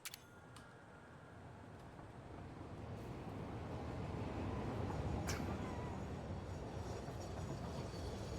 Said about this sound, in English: Ghost train, that's right